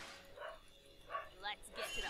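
A dog at home gives a few quiet, faint yips and barks in the background, short irregular calls spread over two seconds.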